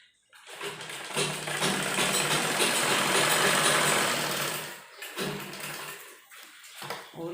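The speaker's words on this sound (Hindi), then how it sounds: "दोनों तरफ हमें इसी तरह से सिलाई लगानी है कमर तक।" A sewing machine runs a long, steady seam up a kurti side toward the waist, loud and close, then stops and gives a couple of shorter bursts.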